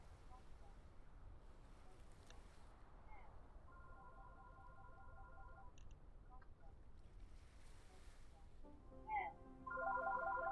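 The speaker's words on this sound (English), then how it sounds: "Phone ringing, hold on." A phone ringtone sounds in short repeated electronic bursts over steady wind-like background noise, with one burst around the middle and a louder, denser ringing at the end.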